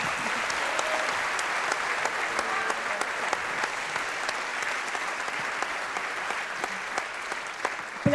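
Steady, dense applause from a conference audience fills the room throughout, even and sustained with no voices standing out.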